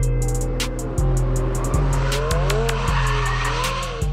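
A race car's engine drones with repeated upshifts while its tires squeal and skid, loud and close, with no talking.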